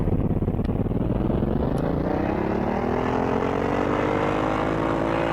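A P-40E Warhawk fighter's piston engine in a VR flight game throttles up from the brake, a loud, continuous propeller drone that climbs steadily in pitch with nothing else heard.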